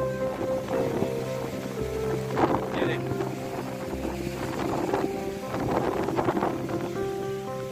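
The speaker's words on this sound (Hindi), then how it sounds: "ये आप देख सकते हैं कितनी तेज आंधी आ रही है यहाँ पर।" A strong windstorm sweeps through Ahmedpur Sial, roaring steadily and buffeting the microphone in heavy gusts, while someone speaks loudly over the constant rush of wind.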